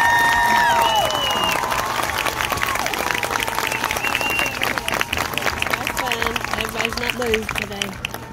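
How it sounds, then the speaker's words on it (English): Audience applause at a Mississippi Class 3A marching band championship awards ceremony, a broad wash of clapping and some cheering from a stadium crowd, with voices and scattered calls running through it. "Would you please join me in another round of applause for these outstanding young performers and their teachers."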